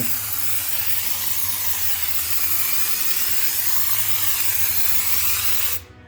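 Steady, close broadband hiss of a spray gun applying closed cell spray foam insulation, running continuously for about six seconds before cutting off abruptly at the end, with a low hum underneath.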